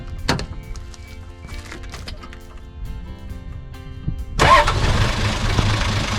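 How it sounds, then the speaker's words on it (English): A 1987 Toyota HJ60 diesel truck starts: soft clicks and rattles give way to the engine catching, which then runs as a steady, loud, rough diesel clatter close by. "She starts every time, and she sounds great. And come on, it's a diesel."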